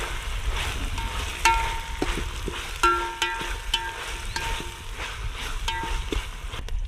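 Green beans fry with ginger garlic paste in a pan, giving a moderate steady sizzle broken by several sharp clinks of a utensil against the metal.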